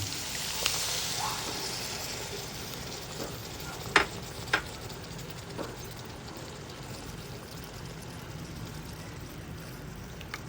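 Laing with coconut milk being stirred in a pan, a quiet continuous bubbling simmer broken by a few faint spoon scrapes against the pan.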